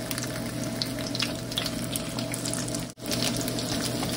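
Salmon burger patties frying in a pan, a steady close sizzle with faint crackles throughout, briefly dipping for a moment before continuing.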